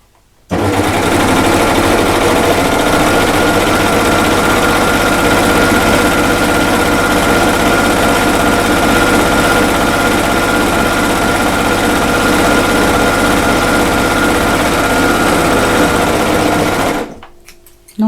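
An overlocker sewing machine runs nonstop for about sixteen seconds, a loud, steady mechanical whir with rapid stitching chatter. It starts abruptly and stops abruptly.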